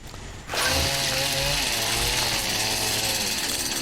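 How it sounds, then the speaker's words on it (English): Chainsaw in the video game XCOM 2: War of the Chosen, a loud revving buzz that kicks in after a quieter moment and holds steady at close range with shifting pitch. "Just chainsaw the Prime."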